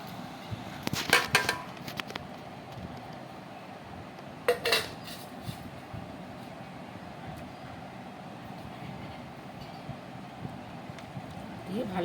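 Bhola fish being mixed in a bowl with poppy seed, mustard and chopped coriander leaves gives a few sharp metallic clinks and scrapes early on, followed by a longer stretch of low background with sparse faint knocks.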